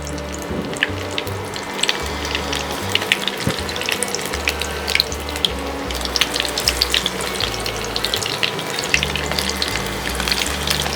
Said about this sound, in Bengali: চপগুলো একটা একটা করে হালকা করে ছাড়বো এটা কিন্তু খুব ডেলিকেট